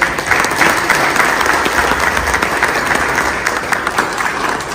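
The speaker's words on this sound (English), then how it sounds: "Can we have a big round of applause?" A convention audience at the Global Goan Convention bursts into dense, sustained applause, many hands clapping together at a steady loud level for the whole stretch.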